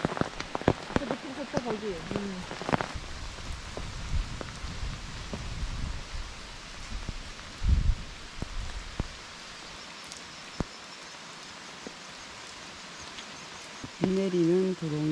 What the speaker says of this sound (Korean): 비 내리는 도롱이 연못.